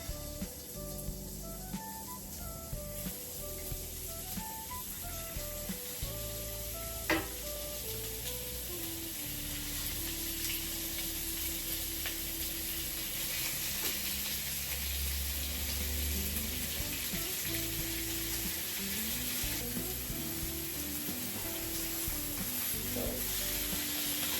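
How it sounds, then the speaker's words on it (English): Ground pork and other tortilla ingredients sizzle steadily in a hot pan, a continuous close frying hiss with occasional stirring scrapes over a light background tune. "just gonna be adding them to this hot pan"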